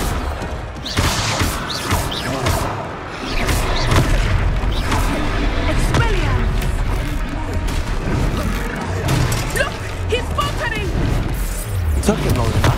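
Spell combat from Hogwarts Legacy on PC, with a busy run of booms, crashes and sharp hits continuing through the fight, loud and layered with music and some talk.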